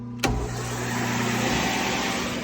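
A sharp clunk as a 5 horsepower three-phase 600 V electric motor kicks on, followed by a steady mechanical hum and whir that holds evenly, close and fairly loud.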